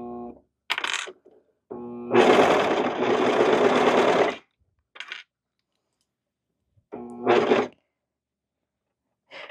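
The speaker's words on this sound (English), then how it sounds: "then we're going to go ahead and sew these seams together" A domestic sewing machine stitches cardigan seams in short separate bursts: a brief run, a longer two-second stretch, then small blips and another short run, close up with quiet gaps between.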